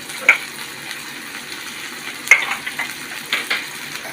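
Ginger and garlic paste frying in a pan give a soft, steady sizzle, close by, with a few sharper spatters and stirring scrapes along the way.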